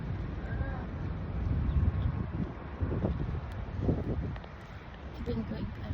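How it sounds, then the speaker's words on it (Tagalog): Wind buffets the microphone with a low, rumbling roar at Studio City in Macau, while voices talk faintly underneath. "Ang hangin."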